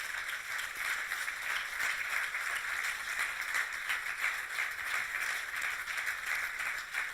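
Studio audience applauding on a TV talk show in Vitoria-Gasteiz: a steady, faint, even patter of clapping that holds for several seconds without a break, heard from a distance.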